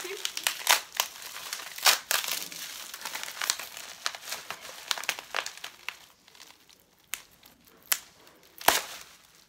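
Crinkly plastic packaging from a cosmetics order crackles and rustles up close in irregular bursts as it is pulled open, with sharp snaps and tears scattered throughout.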